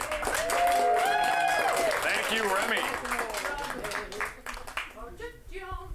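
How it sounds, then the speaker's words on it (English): Audience applause for a player at an improv comedy show rolls on under a host speaking into a microphone, then thins and fades toward the end as the talking continues. "Everyone, give another round of applause for Remy."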